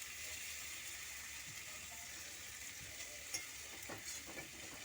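Shrimp frying in oil over a high gas flame while being stirred, for homemade shrimp oil: a steady, close sizzling hiss with a few faint scraping clicks and no voices.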